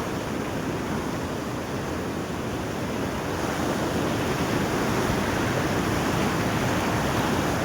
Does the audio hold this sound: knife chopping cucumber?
no